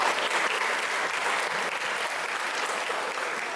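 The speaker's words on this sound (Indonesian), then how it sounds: "Tepuk tangan buat kita semua." An audience at a school student-council inauguration at an Islamic junior and senior high school breaks into dense, continuous applause, even in loudness from start to finish.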